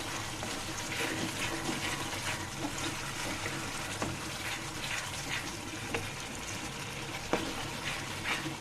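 Taro stolons with dried shrimp stirred and frying in a pan: a steady sizzle with scraping and clinking of a utensil against the pan, close and continuous, with no one speaking.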